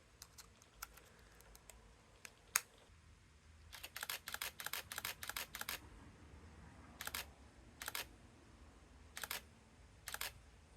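A camera shooting bursts onto a cheap 100-yen SD card: scattered single shutter clicks, then a rapid run of clicks, followed by several shorter bursts, quiet and close against low background noise.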